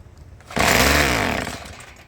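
A Stihl weed eater engine with a fault suddenly revs up loud and close, holds a rough, buzzing whine for about a second, then sags and fades.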